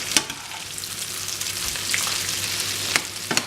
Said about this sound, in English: We'll keep it frying, and because we put a bit of oil in it